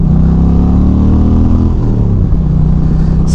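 A 2025 Indian Chieftain PowerPlus 112 Limited motorcycle accelerates with a loud, close, deep engine roar whose pitch climbs and then drops at a gear change, heard alone without speech.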